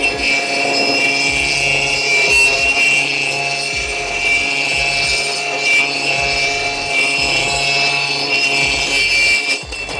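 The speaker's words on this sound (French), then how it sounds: "on arrête toujours la meuleuse avant pour éviter que la chute, elle s'envole" Angle grinder fitted with a diamond core bit cutting in an orbital motion, a steady loud grinding whine with a strong high tone and rough scraping, continuous for the whole stretch with no talk.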